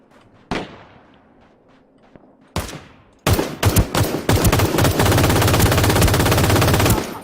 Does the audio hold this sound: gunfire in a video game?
yes